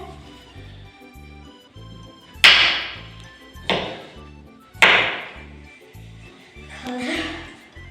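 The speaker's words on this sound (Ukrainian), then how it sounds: "беремо 500 грам гарбуза, нарізаємо шматочками." A knife chops firm pumpkin on a board in four sharp, separate strikes, close and loud, over a quiet background.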